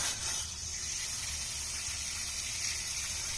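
Cleaner sprayed into a part on a 1975 Ford F-250 4x4 Hi-Boy truck, a steady close hissing spray running for several seconds after a brief louder burst at the start.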